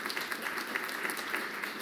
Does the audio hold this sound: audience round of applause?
yes